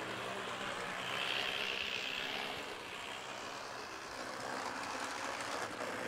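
An HO scale model train runs roughly along its track, giving a steady, fairly loud mechanical rumble and whir that swells slightly midway, heard alone with no talking.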